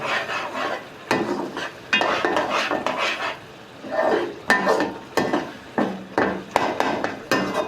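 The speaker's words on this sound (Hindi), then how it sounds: "और आधा चम्मच डाल देंगे धनिया, पिसा हुआ धनिया, और दाल को अच्छी तरह से भून लेंगे।" Chana daal with ground coriander being stir-fried in a pot, a spoon scraping and knocking against the metal in a rough repeating rhythm of clatters and thuds, close and fairly loud.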